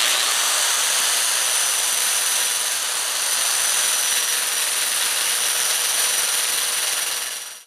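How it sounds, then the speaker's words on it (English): Electric drill spinning a wire wheel against a Mercedes-Benz W140 S-Class wheel, a loud continuous scratchy whir held steady before cutting off sharply at the end. "I'm going to try using an electric drill with a wire wheel on it."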